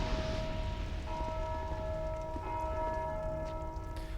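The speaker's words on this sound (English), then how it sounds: "What even rung the bell this time?" Church bell ringing inside the video game Dark Souls II: Scholar of the First Sin, steady sustained tolling tones layered over a dense game ambience for several seconds, moderately loud with no talking.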